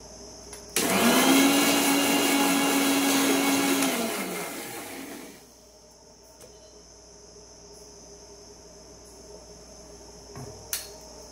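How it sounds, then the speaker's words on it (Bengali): A mixer grinder whirs loudly, grinding ginger, cumin and chili into a spice paste in a short burst of several seconds, then cuts off, leaving a quiet room hum and a faint tap near the end. "তো সেগুলোর জন্য আমি মিক্সারে মশলা করে নিচ্ছি।"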